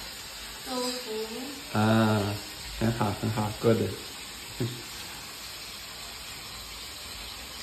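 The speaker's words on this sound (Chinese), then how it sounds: "在煎豆腐。" Tofu fries in a pan in a home kitchen, giving a steady low sizzle that runs under the whole stretch while people talk and laugh over it.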